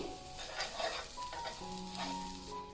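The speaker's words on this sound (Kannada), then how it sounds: "ಈಗ ಇದಕ್ಕೆ ನಾನು ಒಂದು 2 ಚಮಚದಷ್ಟು ಬಟರನ್ನು ಹಾಕ್ತಾ ಇದ್ದೀನಿ" Butter sizzles and crackles steadily on a hot tava for an omelette, a soft, continuous frying hiss with faint tones of a stove or kitchen in the background.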